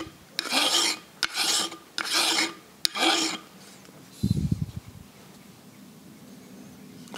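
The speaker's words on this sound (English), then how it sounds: "the way I'm going to clean up these teeth is with just using a soft file and go softly along the edge" A soft file rasps along the crown teeth of an old engine's flywheel in four steady back-and-forth strokes, close and gritty, followed by a brief clunk and quiet handling noise.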